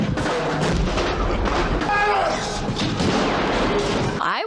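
Sustained gunfire from a movie scene in the James Bond film GoldenEye, a dense, loud barrage of shots and booms that continues almost without pause, with a voice talking over it.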